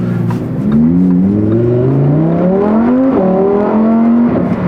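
A loud Lamborghini Huracán Sterrato engine revs upward to 5,000 RPM, pitch climbing steadily through the gears, close and strained, with no talking over it.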